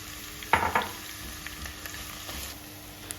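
Thick onion slices fry in hot oil for chicken stew with a low, steady sizzle. Two sharp stirring scrapes come early, followed by softer taps and scrapes.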